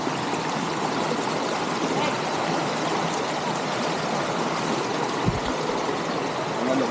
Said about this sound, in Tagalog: Yan po yung isang ilog eh.